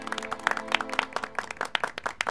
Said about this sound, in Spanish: Se merece un gran aplauso.